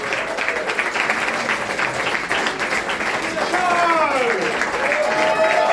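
Comedy club audience in Covent Garden applauding steadily at the end of a stand-up set, dense sustained clapping with cheers and voices in the crowd, growing slightly louder toward the end.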